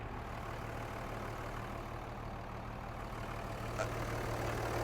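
A Dodge Ram Cummins diesel with nearly a million miles idles steadily with a low, even rumble throughout, close by and alone.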